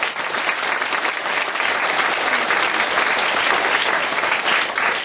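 A church congregation at a worship festival gives sustained applause, a thick, even wash of many hands clapping loudly for several seconds without a pause.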